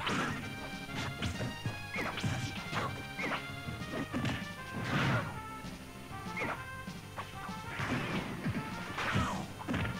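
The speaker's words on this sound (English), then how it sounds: "he has to watch out with these charged up smashes" Charged smash attacks in a Super Smash Bros Grand Finals match between Diddy Kong and Greninja land as a string of sharp, heavy impacts with crashing hits and thuds. They come in irregular bursts, fairly loud, over continuous game noise.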